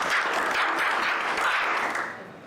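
Applause from a crowd of pupils at a school assembly, a dense patter of many hands clapping together that fades slightly toward the end, with no voices.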